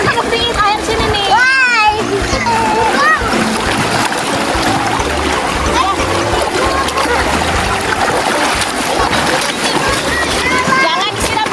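Children splash and play in river water, with continuous splashing and churning close by while kids shout and talk excitedly over it.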